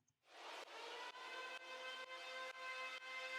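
A sustained Siren synth tone in an electronic music track, with a bright, buzzy harmonic texture, swells in and pulses rhythmically, dipping at regular intervals from heavy sidechain ducking.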